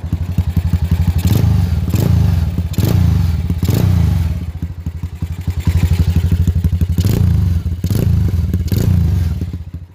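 Custom Bajaj Pulsar flat-track motorcycle with a basic, unfinished exhaust, its engine chugging in a steady rapid thump near and loud, swelling and easing in repeated revs.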